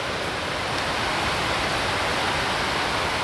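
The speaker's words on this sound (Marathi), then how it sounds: "पाऊस फुल ऑन चालू" Heavy rain pours down in a loud, steady, unbroken hiss that fills the whole stretch with no pause and no voices.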